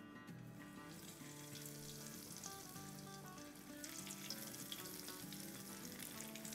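Breadcrumb-coated potato nuggets fry in hot oil with a steady, even sizzle that continues throughout and swells slightly toward the end; low tonal hum sits underneath.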